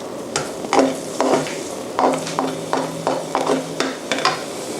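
Black tofu stir-fries in sesame oil, with a bed of sizzling broken by repeated sharp clacks of a spatula against the pan in an uneven rhythm.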